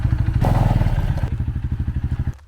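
An ATV engine on Paxos, Greece, fires with a short rising burst and then settles into a close, steady, rapid chugging idle before cutting off abruptly near the end.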